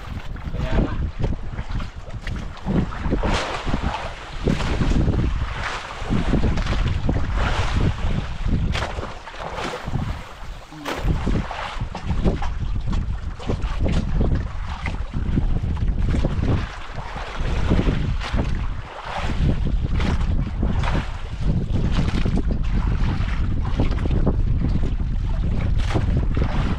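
The Amihan northeast wind blows at sea over a fishing boat, a loud, constant roar of wind buffeting the microphone mixed with rushing water and hull noise, steady throughout.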